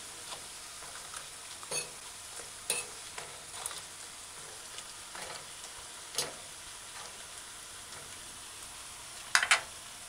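Food frying on a stove at medium-low heat until golden brown, a faint steady sizzle with occasional soft clicks and taps of a utensil and one brighter scrape near the end, close and quiet with no voices.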